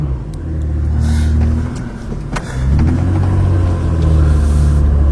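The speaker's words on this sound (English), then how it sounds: "A black car coming out." A black car pulls out onto a street, its engine rumbling steadily and loudly close by, rising and swelling as it moves off, with other traffic noise around.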